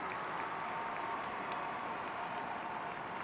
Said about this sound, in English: Crowd applauding Zhemenakova